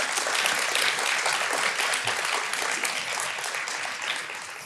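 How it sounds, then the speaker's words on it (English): Sustained audience applause fills a lecture hall at an academic metabolism research symposium, steady and dense throughout, with no speech over it. "So please join me in a round of applause for our event planning and team and the"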